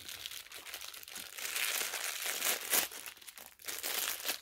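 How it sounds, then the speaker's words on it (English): Plastic packaging around a Kellogg's Bowl Buddies Toucan Sam cereal toy crinkles and crackles continuously as it is torn open up close, in irregular bursts of rustling with no voice over it. "So we got Toucan Sam, and he comes with the same little packaging. So let me get him open."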